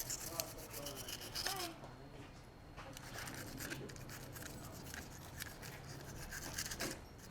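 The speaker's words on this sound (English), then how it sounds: "you are good to go ahead and just mainly scrub down on most of the areas" A brush scrubs the lower receiver of a Springfield XD pistol during cleaning, giving a steady, close, bristly scratching that runs throughout at low volume, with brief pauses between strokes.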